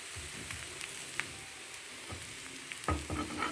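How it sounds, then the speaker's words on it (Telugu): Marinated pieces roast in a lightly oiled pan and get turned one by one, giving a close, steady sizzle broken by soft scraping and clinking taps from the turning. "ఇలా ఒక్కొక్కటి రెండు వైపులా తిప్పుకొని కాల్చుకోండి"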